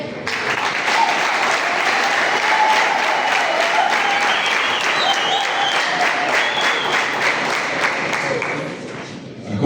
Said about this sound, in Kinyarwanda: abasuhuze n'amashyi menshi cyane